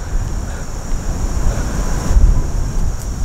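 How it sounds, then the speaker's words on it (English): Strong wind buffets a camera microphone outdoors on a deer hunt in Maryland, a steady loud roar with low gusty rumble throughout and no talking. "I'm battling the wind. My camera arm is blowing all over the place."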